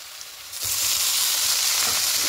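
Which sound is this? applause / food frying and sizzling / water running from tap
food frying and sizzling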